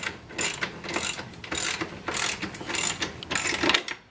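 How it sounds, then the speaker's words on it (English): A ratchet wrench tightens a T-nut down into wood, making a steady series of loud, rapid ratcheting bursts in even strokes, close up and with no talking. "Then we'll take our wrench and we'll tighten that baby up and suck that T-nut down."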